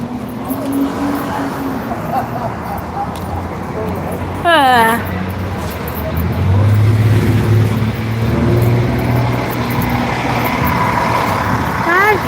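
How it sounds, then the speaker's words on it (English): A bus rolls past close by with a loud, rising engine rumble and road noise, a dog barks, and people talk over the traffic. "That's bus number 2"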